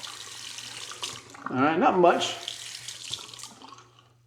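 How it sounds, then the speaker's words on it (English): A bathroom tap runs water as someone prepares to wet a cheek before trimming a sideburn and cheekline, a splashing gush that swells and fades over a few seconds while someone speaks briefly over it. "So I'm gonna put some water on my cheek."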